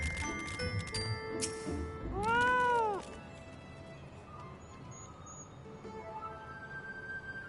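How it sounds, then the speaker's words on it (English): A fat cat mount in Final Fantasy XIV gives one loud, close, drawn-out meow with rising and falling pitch, preceded by faint game chimes and followed by quieter background game ambience; no talking. "Look at the cute little fat cat!"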